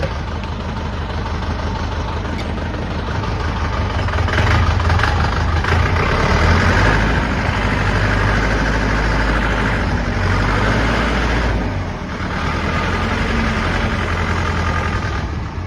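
A DW 504 SDX tractor engine runs steadily and loud for the whole span, a deep continuous rumble with a faint dip near the end and no talk.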